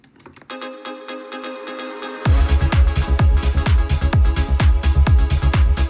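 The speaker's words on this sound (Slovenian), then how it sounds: "Imamo glavni del pesmi, brez vokalov se sliši tako." An instrumental backing track of a pop song with the vocals removed: a quiet sparse intro, then a loud full arrangement kicks in with steady punchy beats and sustained chords driving on.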